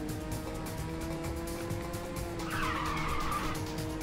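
Race car engine droning steadily in the video game Ridge Racer 6, with a tire skid squealing in near the end over the continuous motor tone.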